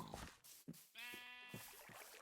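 Minecraft sheep bleating in a hardcore game world, one drawn-out wavering bleat standing out among softer in-game ambient sounds, fairly quiet overall.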